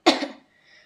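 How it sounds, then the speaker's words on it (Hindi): A single short, harsh cough from a person with a sore throat, close and loud, fading quickly into a faint hiss of room tone. "गले में, इस वजह से खांसी आ रही है।"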